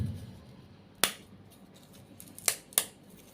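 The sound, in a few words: breaking crispy banana chips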